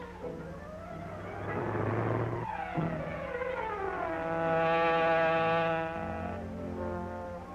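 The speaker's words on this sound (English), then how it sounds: "Saw a car move so fast." A car engine roars past at speed, rising and falling in pitch as it rushes by, with a strong tonal whine swelling in the middle.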